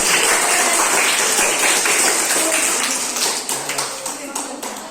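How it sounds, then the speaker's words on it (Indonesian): A classroom of students at an Indonesian madrasah claps for a classmate, a dense burst of hand claps that starts strong and thins into scattered claps toward the end. "Kasih tepuk tangan untuk Rafael Hamdi."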